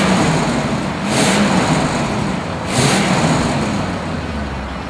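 A 1976 Cadillac Eldorado convertible's big engine revs twice over a steady idle, each swell brief and smooth, fairly quiet and close with no talking.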